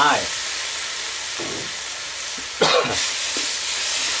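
Field rat meat sizzles and hisses as it is stir-fried in a pan with fragrant chili, a loud steady frying with a sharp burst as the meat hits the hot pan.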